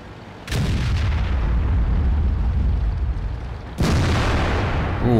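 Tank cannon fire in the World of Tanks video game, with an AMX Foch in play: two heavy, booming shots a few seconds apart, each followed by a loud rumbling roar that fills the space between.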